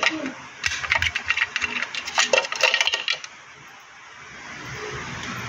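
Screws are undone from the base of a ceiling fan, a close run of rapid metallic clicks and rattles for a few seconds, then quieter handling noise with faint talk.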